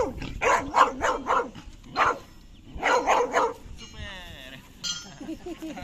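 A dog growls and barks in short bursts while playing during rescue dog search training, close and lively, with high whimpering tones in between.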